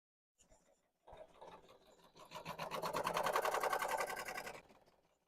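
A sewing machine stitches beanies, starting with a brief whir, then running in a steady, close, rapid mechanical rhythm that builds and holds before stopping, with faint background sounds.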